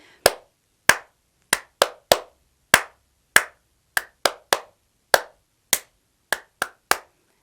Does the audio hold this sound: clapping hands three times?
yes